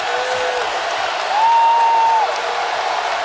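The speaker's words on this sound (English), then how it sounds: "This crowd is really fired up, man" A lively Florida State basketball crowd roars in the arena, a loud, steady wall of cheering and noise with a sustained whistle-like tone rising over it midway.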